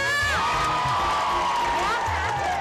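Studio audience at a game show cheering and whooping with some applause, a loud continuous crowd roar with high shouted voices rising over it and steady noise throughout.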